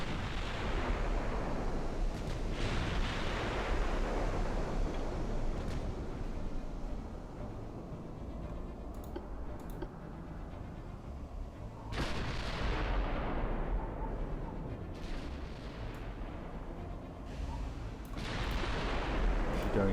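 Six-inch naval guns firing in Ultimate Admiral Dreadnoughts, heavy booming salvos at a few-second intervals with long rumbling decays that overlap into a continuous roar of distant battle.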